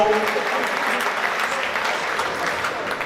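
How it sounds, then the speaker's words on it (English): Dense, steady applause from diners at a fundraising dinner in Caird Hall, Dundee, a loud continuous crowd of clapping holding for several seconds. "a round of applause to all the ex-players over here"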